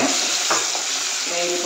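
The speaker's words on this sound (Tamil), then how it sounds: "நேந்திரப்பழம் கட் பண்ணி வச்சுருக்குது இல்லையா, அது நமக்கு வந்து நல்லாணம் ஃப்ரை பண்ணலாம்" Cut nendran banana pieces frying in ghee give off a dense, steady sizzle up close, with a couple of faint stirring scrapes and no talking.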